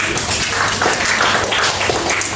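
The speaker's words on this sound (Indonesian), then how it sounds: "beri tepuk tangan dulu untuk Chelsea." A class of students applauding during a lesson, brief continuous clapping at an even level, with a few voices faintly mixed in.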